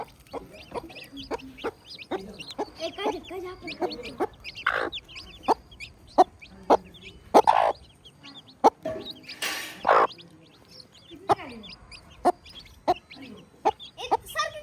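A hen clucking to her small chicks in a yard, repeated short soft clucks and peeps spread irregularly over the stretch, a few louder calls standing out against quiet background noise.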